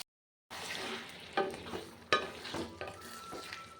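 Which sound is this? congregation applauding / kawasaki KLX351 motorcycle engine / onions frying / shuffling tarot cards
onions frying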